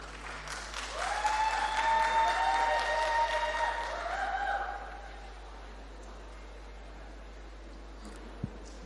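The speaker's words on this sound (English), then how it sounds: "Mr. Caleb Brathwaite, please let's give him a round of applause." A burst of applause from a youth conference plenary audience, loud for about four seconds and then fading into quiet room tone with a small knock near the end.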